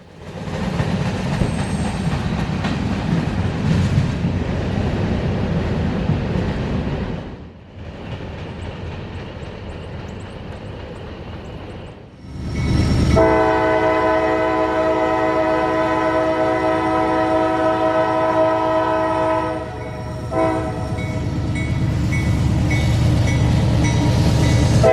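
A southbound freight train on the W&A line rumbles past with a loud, continuous roar of wheels and cars, and a long, sustained horn blast sounds over it midway through.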